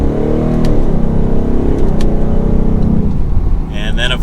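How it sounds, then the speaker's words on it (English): The V8 engine of a 2024 Ford Mustang GT Premium revs with a deep rising growl, loud and close, while someone talks over it. "And then of course you have a big American V8."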